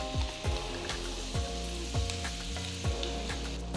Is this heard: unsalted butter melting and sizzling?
yes